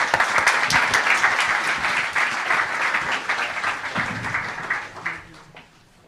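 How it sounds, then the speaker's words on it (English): A conference audience applauds panel guests, a dense steady clapping that holds for several seconds, then thins and fades out toward the end. "Let's give them a round of applause"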